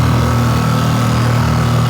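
An outboard motor drives a Pelican Catch PWR100 kayak-style boat, giving a loud, steady, close drone that holds without a break.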